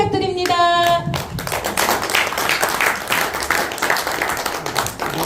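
At a Korean education association officers' workshop, audience applause rises after a short voice and musical tone, then settles into steady, close clapping from a room of people for several seconds.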